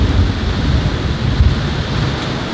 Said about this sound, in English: Man, that was a long, long thunderstorm. It's still going